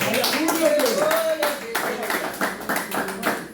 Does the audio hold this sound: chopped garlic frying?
no